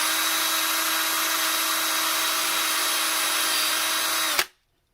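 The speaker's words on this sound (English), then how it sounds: "Put your drill at high speed and start drilling down to the marker" A power drill runs at high speed boring into a wooden handrail through a dowel jig, giving a loud, steady, even whine that cuts off abruptly just before the end.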